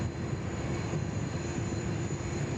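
A jet airliner taking off from a runway at Sydney Airport in a strong northeasterly wind, a steady loud engine roar with a sustained whining tone, heard alone and unbroken.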